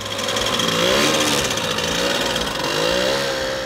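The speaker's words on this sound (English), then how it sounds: "The car is powered by a 50cc moped engine, a DKW engine made in Germany." A Peel P50 microcar's 50cc German DKW moped engine running on petrol-oil mix, a buzzy two-stroke drone with the pitch rising and falling slightly, steady and close with no talk.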